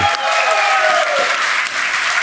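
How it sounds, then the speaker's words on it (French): Studio audience at a children's game show applauds a young contestant named Daniel, a steady, loud wash of clapping that fills the whole short stretch without pause. "On l'applaudit!"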